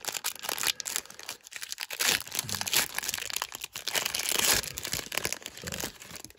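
Foil wrapper of a Gypsy Queen 2020 baseball card pack being torn open, close crinkling and rustling crackles in irregular bursts at low volume, without speech.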